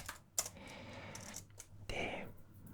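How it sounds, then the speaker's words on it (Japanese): Keyboard typing into a notepad, soft irregular taps and clicks up close, mixed with quiet whispering during a relaxed chat. "適当にこうタイピングを鳴らしながら、僕喋ってることを一応打ってるんですけど"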